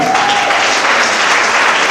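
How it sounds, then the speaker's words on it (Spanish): Loud, dense audience applause at a church sermon, continuous clapping heard alone and close throughout. "Denle fuerte aplauso."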